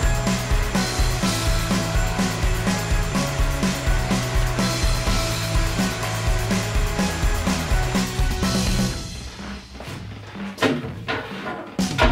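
A vacuum cleaner cleans the fleece filter of a Record Power DX4000 dust collector with a loud, steady whirring drone, then cuts off near the end, leaving a few scattered knocks and rustles.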